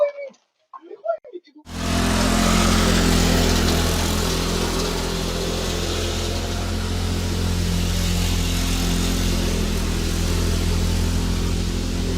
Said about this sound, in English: Engine start, no problem.